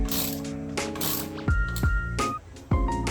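A ratchet tightens the valve cover bolts on a Honda Accord in a series of close, rapid clicking bursts separated by brief pauses, with a metallic ringing edge.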